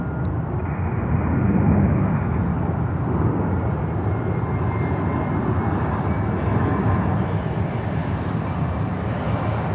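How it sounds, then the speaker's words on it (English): An Embraer 175 airliner on approach to land at Miami Airport, its broad engine roar steady and fairly loud throughout with a slight swell near the start, heard alone without talk. "Embraer 175 coming in"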